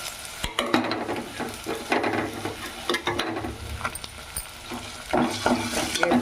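A large onion sizzles and fries in a pan for carrot rice, with steady hissing broken by repeated scraping and stirring clatter close up; no talking.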